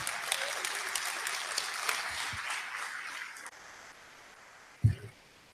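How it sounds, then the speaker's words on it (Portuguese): An audience claps together during a class session, a sustained, moderately loud round of applause that fades after a few seconds into quiet room tone, ending with a single bump. "Pode aplaudir Jesus."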